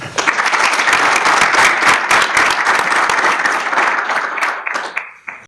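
Audience applause at a press conference welcoming Marc Wilmots as the new Raja coach, a dense, close burst of many hands clapping that holds steady for several seconds before thinning out.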